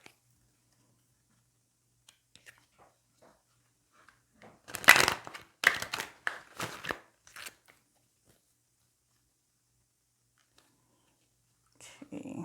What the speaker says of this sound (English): sorry I'm not shuffling on the table, but I don't want to blow all these cards away in the shuffle